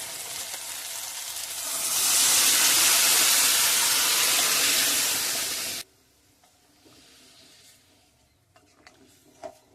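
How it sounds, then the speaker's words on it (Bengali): Boiled mung dal is poured into a pan of fish head masala, raising a loud steaming hiss that swells and holds for a few seconds, then cuts off abruptly to near quiet with faint clicks. "এবারে দিয়ে দেবো সেদ্ধ করে রাখা মুগের ডাল"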